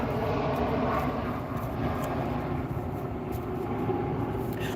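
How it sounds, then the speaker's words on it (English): A Chinook helicopter passes overhead as a steady, heavy rotor-and-engine roar that fills the air at constant loudness with no voices over it. "Is that the Chinook?"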